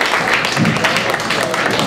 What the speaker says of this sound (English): Les Deegan, everybody. Give a round of applause.